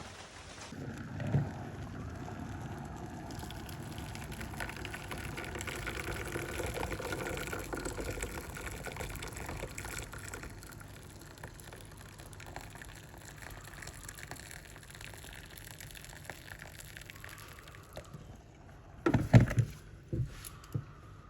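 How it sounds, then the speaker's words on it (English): Steady rain patters and hisses outdoors, a broad continuous wash of sound, with a brief louder knock or clatter near the end. "Once again, it's raining"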